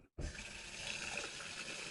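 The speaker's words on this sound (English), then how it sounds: "Here's the kitchen faucet." Kitchen faucet turned on and running, a faint steady hiss of water flowing into the sink after a brief moment of silence, with no talking over it.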